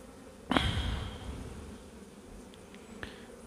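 Honeybees drone around a hive full of brood and nectar, a boosted swarm kept at home. It is a close, continuous buzz with a sharper burst near the start and faint wingbeat flickers later.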